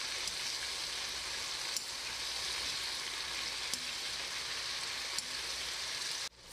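Round pumpkin stir-frying in a pan, a steady close sizzle and hiss throughout with a few faint utensil clicks, no talking.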